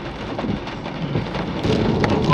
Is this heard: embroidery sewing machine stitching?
no